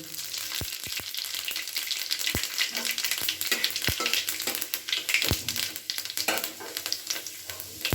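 Panch phoron and three dried red chillies sizzling in hot mustard oil in a kadai while tempering for an elephant apple pickle, a steady close crackling fry with occasional sharp stirring clicks.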